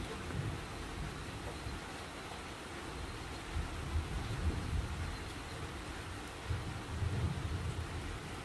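Rain falls as a steady broadband wash, with low thunder rumbles swelling now and then beneath it, continuous and without talk.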